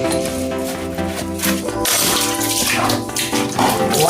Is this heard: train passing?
no